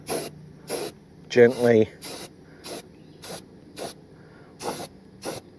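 A Rust-Oleum primer spray can hisses close by in short, even bursts, about ten of them, while primer goes onto a shipping container vent. A single spoken word interrupts partway through.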